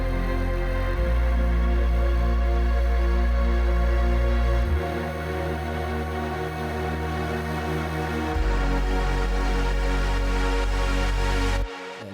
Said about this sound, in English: And all the pads together sounds like this.